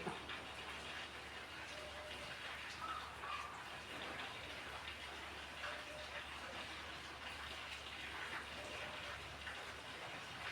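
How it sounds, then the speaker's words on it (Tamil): Faint, steady watery rush of a little water poured into a pan of prawn gravy, continuous for several seconds with a soft hiss and no talking. "கொஞ்சமாக தண்ணி கொதிக்கிற அளவுக்கு கொஞ்சமாக ஊற்றிட்டு"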